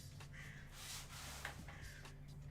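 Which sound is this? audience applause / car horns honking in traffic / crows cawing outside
crows cawing outside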